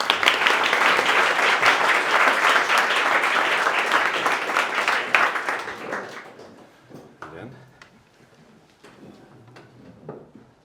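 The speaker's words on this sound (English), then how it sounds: "give a warm round of applause to our first Fireside Chat guest" Warm applause for a fireside chat guest at a leadership talk with a software company CEO, a full round of clapping that fades out midway, leaving scattered claps and faint room sounds.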